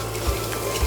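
Dried red chili flakes and spices toast in a pot with a steady sizzle, and two soft knocks of stirring come in a slow rhythm. Close and moderately loud, no voices.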